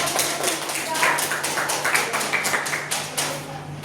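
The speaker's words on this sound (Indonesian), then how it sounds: "Tepuk tangan dulu untuk Bapak." A classroom of students claps for their teacher during an Indonesian-language lesson, a light scattered patter of hands under a steady background hum, fairly soft and close.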